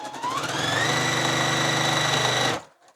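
A sewing machine stitches fabric in one continuous fast whirring run with a rising pitch, close and loud, stopping abruptly after about two and a half seconds.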